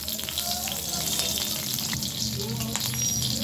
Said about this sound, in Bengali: কড়াইটা গরম করে আমি তেল দিয়ে দিচ্ছি দিয়ে দিলাম গোটা জিরে তেজপাতার কাঁচা লঙ্কা ফোড়ন